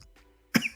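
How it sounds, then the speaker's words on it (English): One short, sharp human cough sounds close by after a moment of near silence. "I just need to cough."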